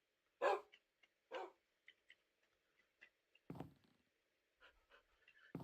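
Dogs in a modded survival video game give scattered short barks and yips, a few louder ones standing out between quiet gaps, with faint panting-like sounds and no talk.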